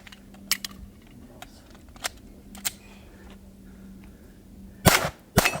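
Pistol shots ring off a steel spinner target at a desert shooting match, a few sharp distant impacts spread out, then two louder close cracks near the end.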